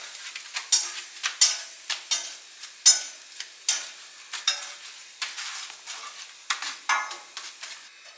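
Gujarati thepla frying in oil on a non-stick tawa, with repeated soft sizzling and scraping bursts at a steady, uneven rhythm, close and moderately loud, and no talk.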